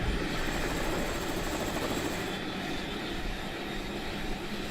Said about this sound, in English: so I can see what it feels like to be in the air in one of these firefighting helicopters